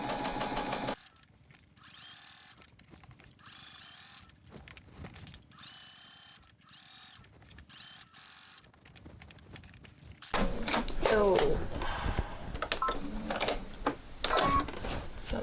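A home sewing machine stitches a seam on a New Look 6575 garment, its fast mechanical whir running in short bursts with pauses between, then switching to a louder, denser run near the end, with no talking.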